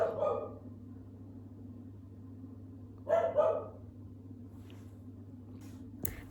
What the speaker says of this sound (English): That's my dog.